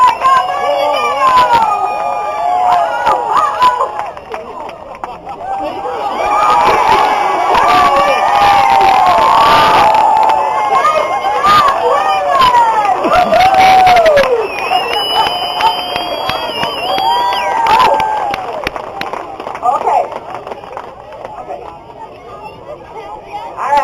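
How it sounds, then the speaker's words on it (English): Rodeo crowd at a bucking bulls event at a county fair cheers, whistles and shouts for a bull rider, a loud, sustained roar of many voices with some applause and an announcer's voice over it. "Let's give him a big round of applause. Make some noise for Waylon."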